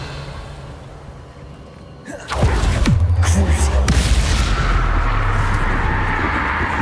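Hogwarts Legacy spellcasting during combat, with the Incendio fire spell fired repeatedly; quiet ambience gives way to a loud whooshing burst and several booming impacts that keep roaring on, with a voice speaking over them.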